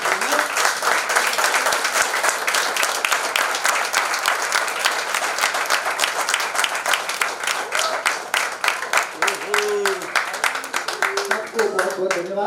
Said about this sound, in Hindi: खड़े होकर जोरदार तालियां बजाते हैं